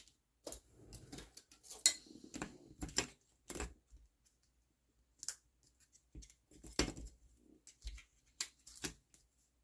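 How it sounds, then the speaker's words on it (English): Paper card being cut, heard as a series of sharp, close snips and crisp scraping clicks scattered irregularly through a quiet room. "I'm going to go ahead and cut this off."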